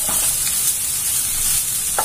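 Chicken filling for chatti pathiri sizzles and fries in a pan while being stirred, a steady close hiss with occasional scraping strokes of the spoon.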